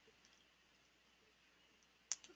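A single crisp computer mouse click near the end of an otherwise quiet stretch, close and short.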